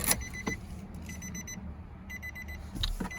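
A repeated electronic key reminder chime sounds in short bursts with brief pauses, close by in the quiet interior of a 2019 Nissan Frontier SV Premium truck.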